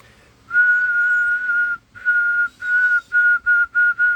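A radio transmitter set to high power on lower sideband gives off a steady high whistle, first in one long tone and then in shorter bursts with gaps between them.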